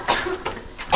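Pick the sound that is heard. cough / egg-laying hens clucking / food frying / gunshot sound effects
cough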